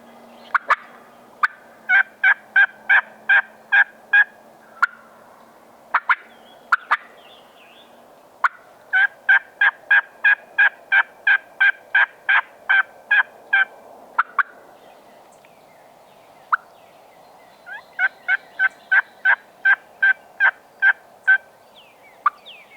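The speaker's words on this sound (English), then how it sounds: "they gobble again, and it sounds like multiple turkeys" Several wild turkeys gobble during a turkey hunt in loud, rapid bursts of rattling calls, repeating in runs of about a dozen notes with short quiet gaps between, fairly close.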